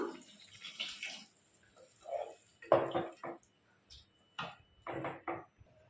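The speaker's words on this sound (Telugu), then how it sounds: "వాటర్ వేసుకుందాం" Short, quiet bursts of water pouring into a pot for cooking veg biryani rice, several separate splashes with brief pauses between them.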